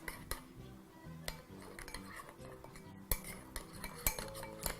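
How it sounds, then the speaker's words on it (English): A spoon mixes a pork steak marinade with dried oregano in a bowl, giving brisk, repeated scraping and clinking strokes with sharper clinks throughout, close and moderately loud with no talk. "using your spoon, proceed to mix very,"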